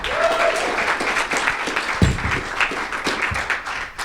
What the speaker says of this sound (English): how about a nice round of applause for Jessica Inslee, everybody?